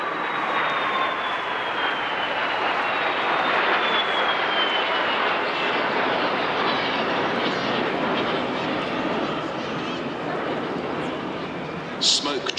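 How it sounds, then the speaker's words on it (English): Three BAC Strikemaster jet trainers flying past in formation at an airshow, a loud sustained jet roar sweeping across for the whole stretch, steady and broad, with a brief clatter near the end. "that gorgeous sound of the 3 aircraft as they flew from the pier end past us on the commentary point"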